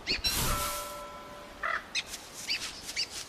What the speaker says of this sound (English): oh, birds